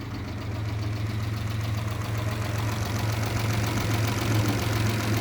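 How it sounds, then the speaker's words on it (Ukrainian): A Mitsubishi Pajero engine idles steadily close by, a low, even rumble with a faint rhythmic rattle and no voices. "Чуєте, як моторчик робить."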